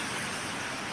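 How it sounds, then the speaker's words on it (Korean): Heavy rain pouring down outdoors in Yangyang, a dense continuous hiss that stays loud and even throughout with no pauses and no voices. "비가 퍼붓고 있네요."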